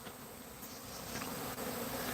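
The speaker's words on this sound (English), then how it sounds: "so many bees in there." Continuous droning hum of numerous honey bees swarming around a hive nearby, steady and fairly loud, with no talking.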